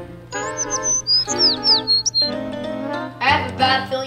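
A bird in a children's comedy skit gives repeated squawks and chirps with sharp rising and falling whistles, fairly close, separated by short gaps and followed by a denser burst of calls near the end.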